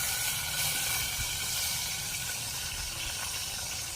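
Onion dropped into a hot pan with salt and tomato for a Marathi-style dal with dried Bombay duck, giving a steady, continuous sizzle and hiss that stays even and fairly loud from start to finish.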